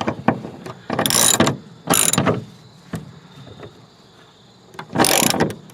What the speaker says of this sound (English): by hand using a socket and an open end wrench